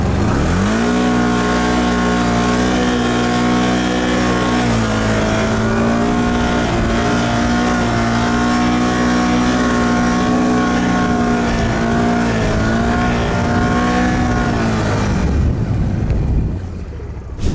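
A quad bike engine revs hard and continuously while ploughing through a deep snowdrift, a loud, close, steady roar with shifting pitch that drops away at the end.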